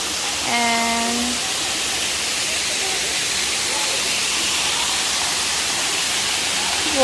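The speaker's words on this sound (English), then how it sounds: "This is like a mini waterfall." A small waterfall at a site in Ubud, Bali, gives a steady broadband rush of falling water that holds even through the clip, with brief faint voices or whistle-like tones early on.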